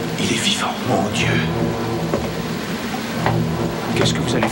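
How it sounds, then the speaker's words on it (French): Storm rain and rumbling thunder with lightning fill a scene from the 1984 Frankenstein film, a dense steady wash with swelling rolls, as voices speak over it. "Ce sont les éclairs."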